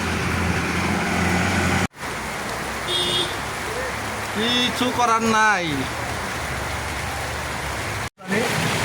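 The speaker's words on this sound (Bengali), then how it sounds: "আবার বৃষ্টি নামতেছে, একটু থামে আবার শুরু হয়।" Steady rain falls outdoors during an afternoon downpour, a continuous broadband hiss that runs through the whole stretch with two brief dropouts, while a person talks over it and a faint vehicle sound rises midway.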